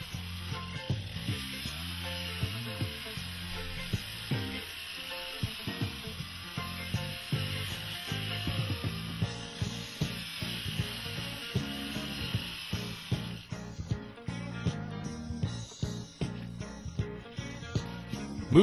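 A 200-grit polishing pad works a granite edge, making a continuous wet hiss with rapid rhythmic scuffing pulses that hold steady at a moderate level and grow choppier toward the end.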